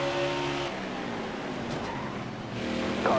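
NASCAR race car engines roar steadily in the NASCAR Heat 4 video game at Martinsville, a dense, loud drone that dips briefly and swells again, with a faint squeal at the end.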